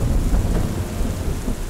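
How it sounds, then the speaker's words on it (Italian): Heavy rain pours down in a forest during a mountain bike ride, drumming loudly and continuously on a helmet and rain cape, with a dense, rumbling downpour and no voices. "si sente solo il tamburellio della pioggia sul casco e sulla mantellina"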